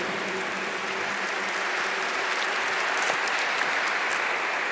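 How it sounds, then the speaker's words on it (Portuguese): A church congregation applauds together in a dense, steady burst of clapping that fills the space at a constant loudness, with no voices heard. "dê agora uma grande salva de palmas para o Senhor"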